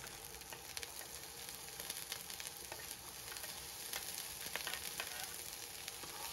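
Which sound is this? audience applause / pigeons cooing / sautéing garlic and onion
sautéing garlic and onion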